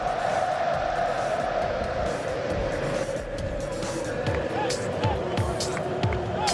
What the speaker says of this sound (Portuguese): Olê, Tite, grita o torcedor do Corinthians.